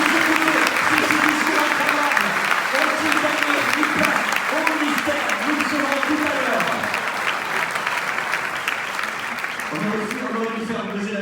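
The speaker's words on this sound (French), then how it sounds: "applaudissez-le très fort, s'il vous plaît." Sustained, loud applause from a large audience at a television fiction festival's opening ceremony, dense clapping over several seconds with voices talking over it throughout.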